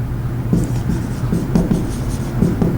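Pen writing out a maths answer on paper or a board, soft scratchy strokes in short irregular bursts, close and fairly quiet over a low steady background hum.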